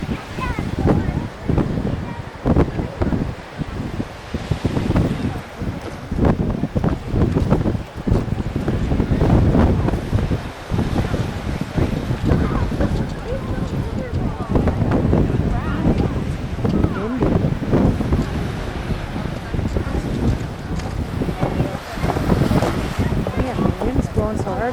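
Strong wind gusts on Naples Beach, Florida, roaring steadily across the microphone for the whole stretch, with people talking now and then beneath the buffeting.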